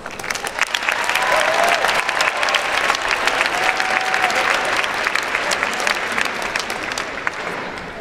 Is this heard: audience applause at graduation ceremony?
yes